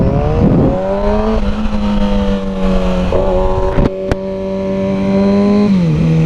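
A Mercedes SL65 AMG with a twin-turbo V12 accelerates hard, its loud, close engine note climbing through the revs with a brief gear-change dip midway.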